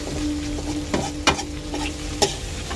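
Ground turmeric, chilli, cumin and coriander fry in oil under a steady close sizzle, with a few sharp scrapes as a spoon stirs the pan.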